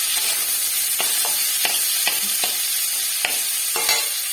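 Cauliflower, peas, tomato and asafoetida frying in a kadai for samosa filling: a steady, close sizzle with a string of sharp spatula scrapes and stirs spaced about half a second to a second apart.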